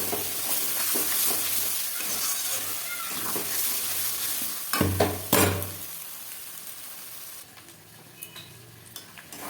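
Goat meat browning in oil in a pan, with a steady sizzle and stirring scrapes that swell near the middle, then quieter gentle frying toward the end.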